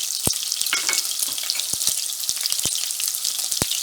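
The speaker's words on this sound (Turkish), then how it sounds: "etlerimiz gördüğünüz üzere hafif kızardılar, kavruldular" Chicken pieces for a vermicelli pilaf sizzle and crackle hard in a hot pan, a dense continuous fry punctuated by sharp pops and the scrape of stirring, close and loud with no talk.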